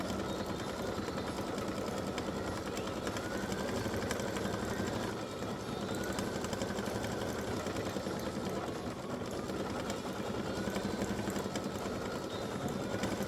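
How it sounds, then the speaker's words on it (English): An embroidery machine stitches the dark gray eyes of a Halloween pumpkin face design, a steady mechanical whir and rapid needle chatter running continuously and fairly close throughout. "this is going to stitch the eyes of this pumpkin face"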